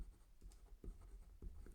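A pen or marker writes an answer by hand, making soft, close scratchy strokes in quick irregular bursts, faint and alone.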